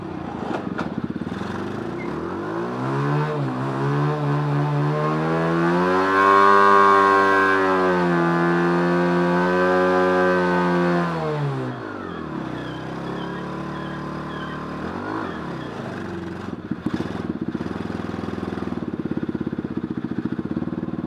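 A 110cc mini Willys jeep engine on NOS running in third gear, a loud buzzing drone that rises in pitch, holds high, then drops away before revving again, close up.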